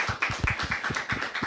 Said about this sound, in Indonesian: Kita berikan tepuk tangan untuk Prof Alex.